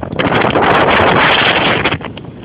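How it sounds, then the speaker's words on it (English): Gusty wind at coastal dunes buffets the microphone with a loud, rough rushing that rises and falls over a couple of seconds. "A bit windy or something, which is not too bad."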